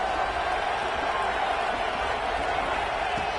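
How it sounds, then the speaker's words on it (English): Steady, dense crowd roar in a football video game, a continuous wash of stadium noise without breaks, with no clear cheers or claps standing out. "Here comes the crowd noise."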